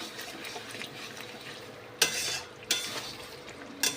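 Chicken curry with pre-fried potatoes is stirred in a pan, giving a soft low sizzle with three sharp scraping strokes of a spoon, close and fairly quiet, with no talking.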